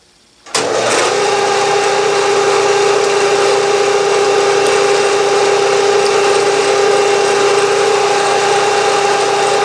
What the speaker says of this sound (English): I'm ready to drill this hole.